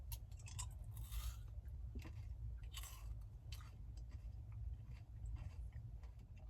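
Someone chews a mouthful of 1982 canned beef stew, with faint, close mouth sounds and a few soft crunchy bites over a steady low background hum.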